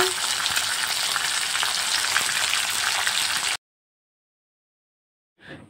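Food sizzles steadily in hot oil for several seconds, a dense, even crackle with no voices, then the sound cuts off abruptly into silence before a faint stir of noise returns at the very end.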